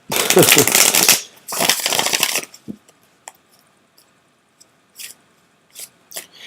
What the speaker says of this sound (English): They sort of take a long time to shuffle.